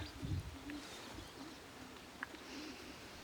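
A young racing pigeon, likely male, coos softly a few times against a quiet background, low throaty calls with a faint chirp later.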